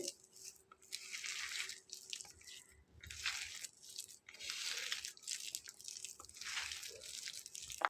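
Boiled potato mashed by hand, wet squelching and squishing in repeated uneven bursts, close and faint with no talking.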